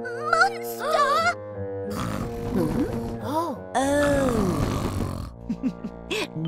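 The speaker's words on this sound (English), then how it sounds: "Just Grandpa Pig snoring." A cartoon pig snores loudly, with voiced, exaggerated snorting rumbles that swell and fall in repeated pitched bursts, up close and filling the scene.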